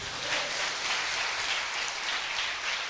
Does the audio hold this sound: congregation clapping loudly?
yes